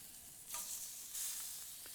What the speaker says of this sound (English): You can hear that, an instant sizzle.